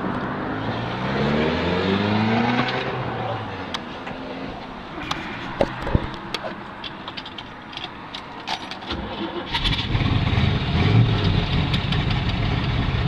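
A 1969 Chevrolet Camaro Z28's 302 solid-lifter V8 cranks and catches, then settles into a loud, lumpy idle with a steady rumble and occasional ticking, close by.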